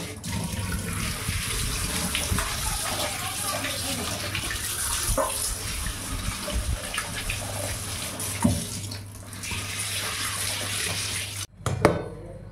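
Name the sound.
water running while washing rohu and pabda fish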